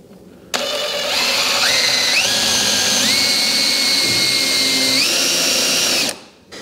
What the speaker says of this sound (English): We'll pre-drill with a smaller bit first.